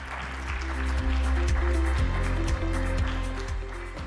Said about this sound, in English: So now we give applause to him.